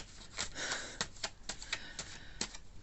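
Tarot cards being shuffled and drawn at close range, a series of sharp papery snaps and flicks in an irregular rhythm, quiet overall with soft rustling between the clicks.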